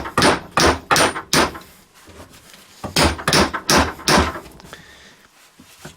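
Hammer striking the transmission CV joint drive flange on a Volkswagen or Audi, a series of sharp metallic blows in quick clusters, close and loud, with a brief pause midway.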